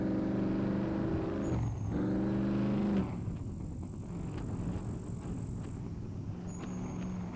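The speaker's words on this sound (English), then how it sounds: "the truck is loud again" A truck engine from the survival game SCUM drones steadily and loudly, its low hum rising in pitch briefly before settling into an even rumble with a faint high whine over it.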